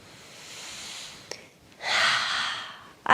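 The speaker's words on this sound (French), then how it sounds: "il y a des respirations spontanées qui viennent" A person breathes spontaneously while winding down in a calm relaxation exercise: a soft exhale swells, a quick snort-like intake breaks in, then a fuller, louder breath follows, close and alone.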